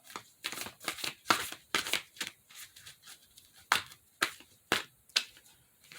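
Oracle cards are shuffled by hand in a quick run of crisp riffling bursts and soft slaps, close and fairly quiet, with no talking.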